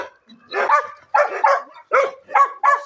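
A dog barks about six times, the sharp, close barks coming in short bursts with brief pauses between them and no other sound around them.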